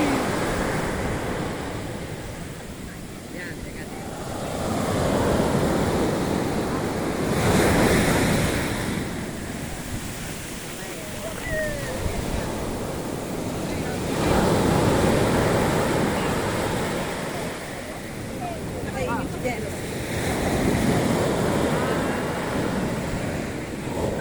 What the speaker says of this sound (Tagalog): Ayan siya, continuous lang ang alon.